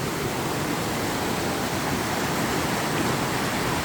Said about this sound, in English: And here is Snyder Creek.